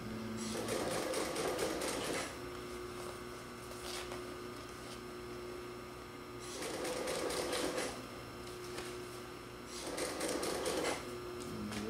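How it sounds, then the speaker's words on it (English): A walking foot sewing machine stitches upholstery for an old marine chair in three bursts of rapid, rattling needle strokes separated by quieter pauses with a steady motor hum, close by. "this walking foot is a phenomenal machine because it feeds the top and the bottom at the same time"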